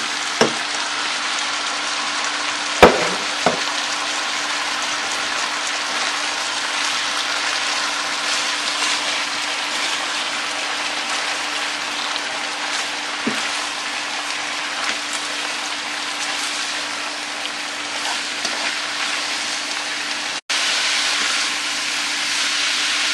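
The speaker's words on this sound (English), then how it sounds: "And add your cauliflower rice." Cauliflower rice frying in a pan for keto chicken fried rice, a loud continuous hissing sizzle with occasional clicks and clatters, close and steady throughout.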